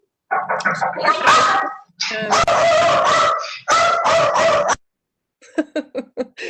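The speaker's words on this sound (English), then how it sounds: "Someone's dog is excited." A dog barks and yelps excitedly in rapid bursts, loud and close, with a short pause before a final string of quicker, sharper yips; no talking is heard over it.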